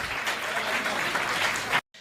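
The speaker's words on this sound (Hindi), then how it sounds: "तालियां जोरदार बजना चाहिए।" Audience at a Hindi comedy poetry gathering (kavi sammelan) breaking into loud, dense applause that holds steady, then cuts off abruptly just before the end.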